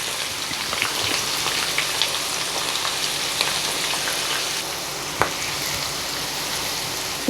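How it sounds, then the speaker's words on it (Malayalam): Thinly sliced onions sauté in hot oil for an Old Delhi style chicken changezi, giving a steady, close crackling sizzle with a few sharper pops, and no talking. "ഉള്ളി ഇട്ട് കൊടുത്ത് നമുക്കൊന്ന് വഴറ്റിയെടുക്കാം."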